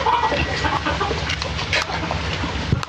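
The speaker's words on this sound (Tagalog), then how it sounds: "Mukhang maraming manok na native dito kaya JJ ah." Native chickens cluck and chatter continuously nearby in a rural yard, a busy flock with overlapping calls, fairly loud throughout.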